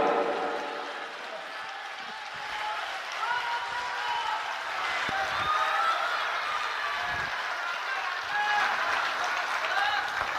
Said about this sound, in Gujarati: જોરથી તાળીઓ